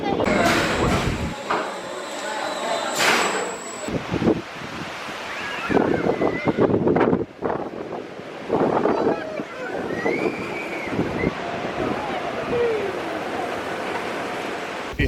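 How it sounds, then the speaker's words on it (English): Gale-force wind buffets the microphone at a seaside amusement park, roaring in loud gusts with rumbling surges while people talk intermittently over it. "It's not really summer here, it's more like gale force winds, actually, literally, not even joking."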